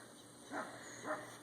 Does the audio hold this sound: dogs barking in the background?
yes